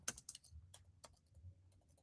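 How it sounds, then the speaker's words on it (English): Quiet, one-handed typing on a computer keyboard gives scattered, irregular key clicks over soft background noise, with no voices. "I'm typing with one hand"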